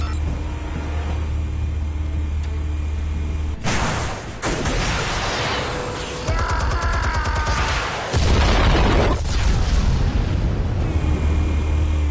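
Explosives detonating in a video game, several heavy booms and blasts in succession, loud and close, layered over a steady rumbling backdrop.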